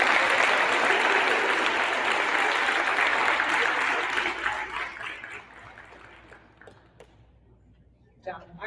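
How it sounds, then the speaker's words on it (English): Sixth graders and their audience at a school awards assembly burst into loud, dense applause that holds for about four seconds, then thins into scattered claps and fades out, with a voice starting to speak at the end. "Round of applause."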